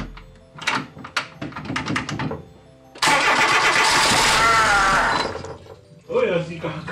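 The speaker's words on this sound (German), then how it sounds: "Erstmal den Motor, der Motor wieder anspringt." A VW Polo 86c 2F car engine cranks with a burst of broadband roar, then settles into a loud running rumble before fading, with talk before and after.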